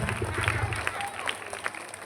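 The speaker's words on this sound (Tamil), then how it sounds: "நல்லா கைத்தட்டு" Audience applause with scattered clapping from a crowd at a school alumni gathering, steady and fairly close, with voices mixed in underneath.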